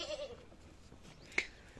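A large buck goat of Beetle-type breeding bleats faintly once at the start, followed by a quiet farmyard background and a brief sharp click.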